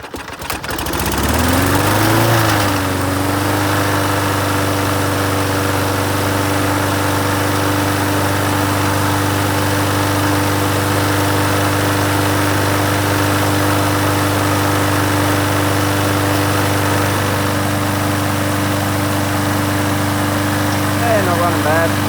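A previously repaired Victa 4-stroke lawn mower engine starts up, revs briefly, then runs at a steady, loud, even idle close by.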